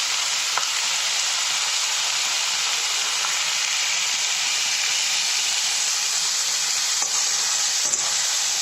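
Cauliflower, potato and green peas sizzle loudly in a hot pan, a dense, unbroken hiss close up with a few faint knocks and no speaking.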